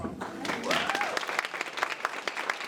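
An awards-dinner audience applauds a catering chef, brisk clapping with a brief voice over it at the start, fairly soft and steady across the room.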